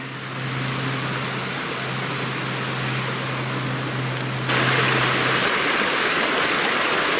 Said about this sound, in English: This creek is running at a higher level than I thought it would